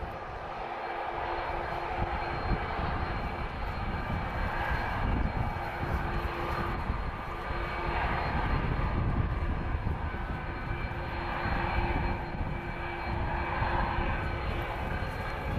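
Jet aircraft engine roaring steadily at Lisbon Airport, a loud, continuous broadband rush with fluctuating intensity across the whole stretch and no voices.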